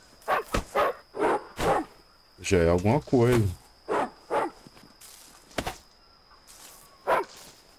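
Dog barking in the video game The Eternal Castle, a series of sharp repeated barks spaced irregularly, with someone talking in between and a steady high insect-like hiss underneath.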